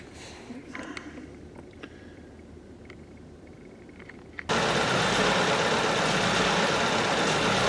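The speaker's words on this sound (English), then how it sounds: "now the engine is idling" A VW Golf Mk VII with a 1.4 TSI engine idles, first as a faint, steady hum with small clicks, then suddenly much louder and nearer as a broad, constant drone for the last few seconds.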